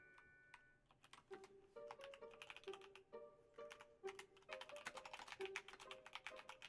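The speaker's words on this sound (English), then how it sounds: "Typing noises." Rapid typing on a computer keyboard, close and fairly quiet, with uneven bursts of clicking keys and short pauses between runs, and no speech.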